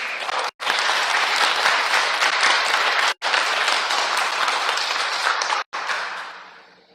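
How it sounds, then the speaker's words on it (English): A graduation ceremony audience for a service dog class applauds loudly and steadily, a dense wash of clapping broken by two brief gaps before fading out at the end. "So how about a big round of applause for everybody involved?"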